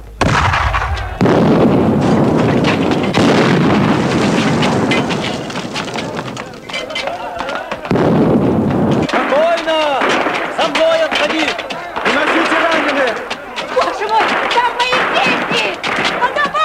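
Booming artillery cannon blasts and bursts erupt repeatedly in a street battle amid shouting voices and chaotic noise, loud and close.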